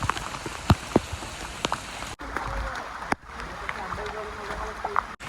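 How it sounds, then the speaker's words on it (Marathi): Heavy rain pours in a foggy, dark forest on the Andharban jungle trek in the Kundalika Valley, a dense steady hiss with close drips and taps, and a brief break in the sound partway through. "आणि आता पाऊस अतिशय सुरू झालेला आहे."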